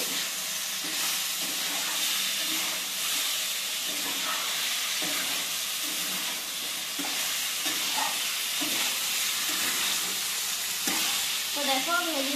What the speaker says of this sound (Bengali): তো দেখো ভেজে দিচ্ছি চিকেনটা আমি।